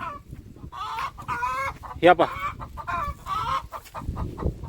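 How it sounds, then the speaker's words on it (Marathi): Hens cluck in short harmonic bursts on a farm with poultry kept beside a cotton field. The calls are close and moderately loud, and someone talks over them throughout. "या आपल्या कोंबड्या आहे पा."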